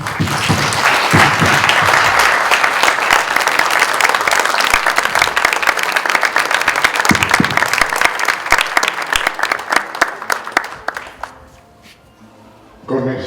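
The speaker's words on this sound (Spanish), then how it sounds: "Con este aplauso agradecemos de todo corazón la participación de ella" Loud, sustained audience applause after a talk, dense clapping that continues for about ten seconds before thinning out and fading, followed by a brief near-silence.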